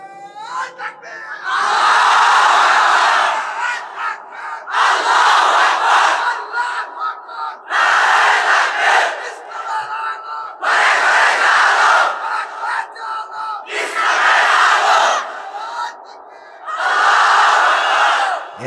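A large crowd at an Islamic sermon gathering shouts takbir in loud, repeated massed bursts, each roar lasting a couple of seconds with brief pauses between, filling the space.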